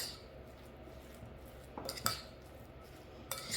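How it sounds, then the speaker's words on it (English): A utensil mixes a cheese mixture in a bowl, giving a few faint, scattered scrapes and light clinks against a quiet background. "we're gonna take our cheese mixture and just mix everything together"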